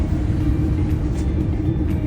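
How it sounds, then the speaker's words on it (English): Road traffic rumbling steadily around a car on a morning drive as congestion builds, a continuous low drone with faint passing swells and no talk. "traffic is building up"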